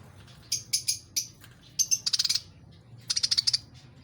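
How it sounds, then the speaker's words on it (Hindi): Parrots calling in a home garden: bursts of shrill, high chirps and squawks in quick runs, some in rapid trains of five or six, fairly close and loud over a low background hum. "वो देखें ऊपर वाले तोते ना मुझे बुला रहे हैं अब।"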